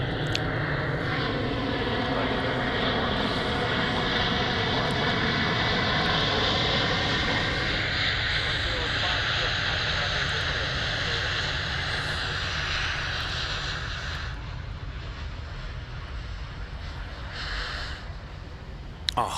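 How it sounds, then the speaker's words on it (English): A China Eastern Airbus A350 jet landing on runway 34 at Sydney Airport, a loud sustained engine roar that slowly fades as the aircraft passes, heard from a nearby spotting position. "China Eastern just dropping in here on home ground, runway 34 right in front of us."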